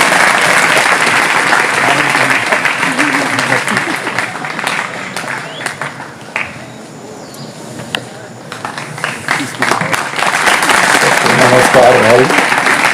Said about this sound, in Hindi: आपके जोरदार तालियों के बीच बुलाना चाहेंगे।